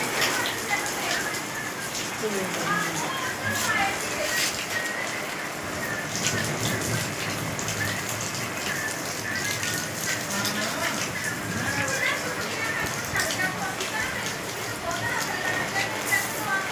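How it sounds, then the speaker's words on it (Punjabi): Heavy rain falls hard in a village amid strong wind, a steady, dense patter and hiss that keeps going with small surges, fairly loud and close throughout. "ਮੀਂਹ ਬਹੁਤ ਪੈਣ ਡਿਆ"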